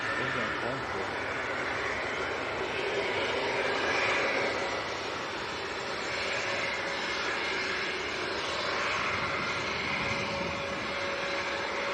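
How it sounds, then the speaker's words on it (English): A Phenom business jet taxiing at Leeds Bradford Airport gives a steady, loud engine roar and whine that holds throughout, swelling slightly midway, heard from a distance across the airfield with no talk. "The French Phenom's just about to taxi out as well."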